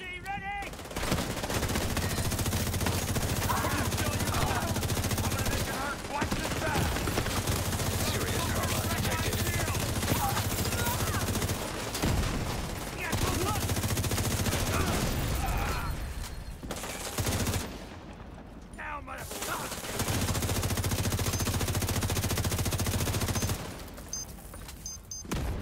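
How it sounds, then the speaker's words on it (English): Sustained automatic gunfire in a video game, fired blind in long loud bursts separated by short breaks, with a voice talking over parts of it. "Gonna blind fire here for a while."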